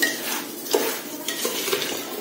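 Steamed raw mango pieces are stirred into sugar in a pot for a mango preserve, with soft scraping, clinking stir strokes and a few brief knocks at an even pace. No one speaks.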